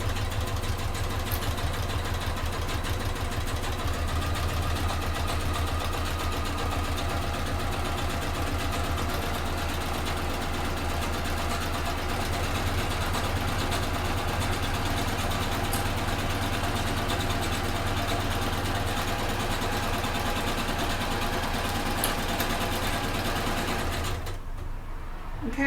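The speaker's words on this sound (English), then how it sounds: "I'm just going to sew those two together" A sewing machine runs steadily at a short stitch length, joining two fabric pieces for a fold-over clutch bag, with a continuous close mechanical hum for about twenty-four seconds before stopping abruptly.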